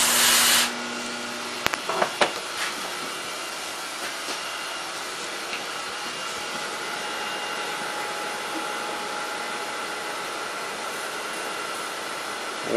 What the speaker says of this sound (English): I'm going to hit the air hose again. Again, very light blast just to pull the coolant off.